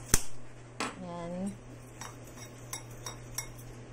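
A metal utensil clinks and scrapes against a bowl while crispy kangkong batter is mixed, with one sharp knock followed by several lighter, scattered taps, fairly close.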